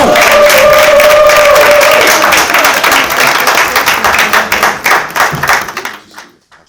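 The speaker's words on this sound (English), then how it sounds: "Would you please clap those hands for the one, the only, Donslow Brown." A conference audience at the Inspire Your Confidence Summit 2025 claps loudly for speaker Donslow Brown, a dense burst that thins into scattered rhythmic claps before fading out, with faint voices mixed in.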